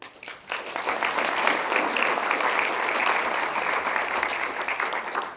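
An audience at a school district retirement celebration breaks into sustained, dense applause that swells quickly and holds steady for several seconds.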